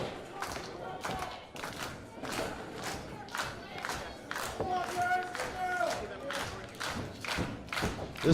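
A wrestling crowd rallies behind the wrestler Sledge, clapping in a steady rhythm and shouting together. Voices rise over the beat throughout.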